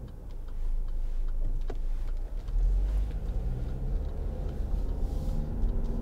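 A 2013 Land Rover Freelander 2 SD4 diesel SUV driving at speed on country roads, with a steady low rumble of engine and road noise plus faint ticking throughout.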